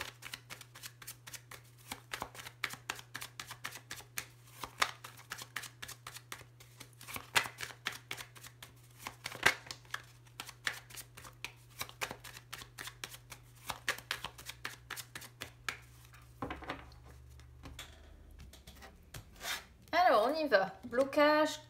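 Tarot cards being shuffled for a reading, a long run of quick crisp riffling flutters in repeated bursts, close and clear over a low steady hum, with a voice briefly heard near the end.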